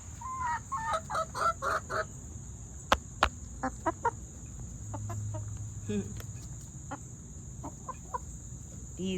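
Chickens with red combs and wattles clucking near a watermelon, a run of short rhythmic clucks at first, then scattered sharp pecks and occasional clucks over quiet insect chirping.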